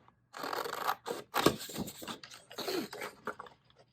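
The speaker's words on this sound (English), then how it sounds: "Let's cut this out another little." Scissors snip through paper while a belly band is cut out for a handmade album, a quick series of close, crisp cuts and rustles over a few seconds.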